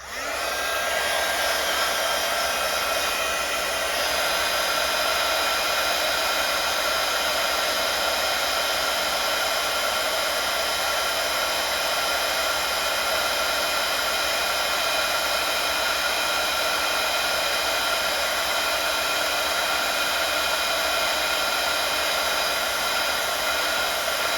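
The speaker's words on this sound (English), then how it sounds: "I'm just going to use my heat tool to set this" A heat tool blows steadily while drying watercolour on a card, a loud, constant close-up whir and rush of air with a high whine, unbroken for the whole stretch.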